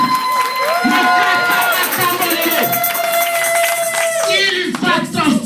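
A church congregation at a lively French-speaking service cheers and claps loudly, with voices shouting and calling out in sustained tones over a continuous crowd roar.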